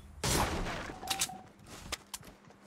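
Gunfire in Fortnite: one loud burst opens, then several sharper single shots follow at uneven intervals, close and clear with no talking over them.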